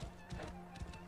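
Horse hooves clopping in the video game Assassin's Creed Origins, a few quick hoof steps over a steady low hum, faint and close.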